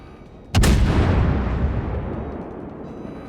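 High-explosive shells fire in the naval game World of Warships, a single sudden loud boom followed by a long rumbling decay that fades gradually.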